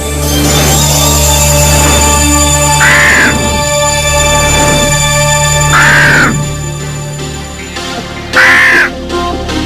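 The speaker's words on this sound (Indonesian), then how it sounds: "Ya, itu kumpulan gagaknya." Several crows caw loudly and close by in three separate bursts, each a harsh repeated call standing out over a steady background hum, with no talking.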